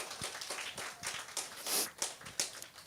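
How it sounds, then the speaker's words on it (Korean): A church congregation at a Sunday service claps in fairly faint, uneven applause that runs the whole time, with scattered individual claps and some background voices. "자, 박수 한번 주세요."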